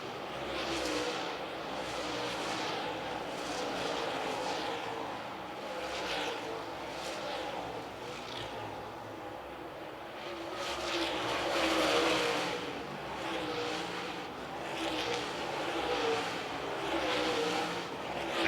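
Super late model race cars at Lancaster Motor Speedway, several engines roaring in waves as the pack sweeps past, heard steadily from a distance with crowd and track ambience behind them.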